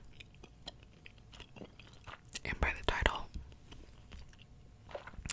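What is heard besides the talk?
gum chewing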